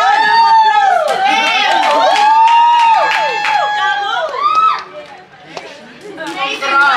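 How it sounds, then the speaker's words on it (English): A crowd at a South African children's birthday celebration cheers and whoops for the class of 2023 matriculants, with high excited voices rising and falling over steady chatter; clapping is barely distinct, and the noise thins out near the end. "Another round of applause"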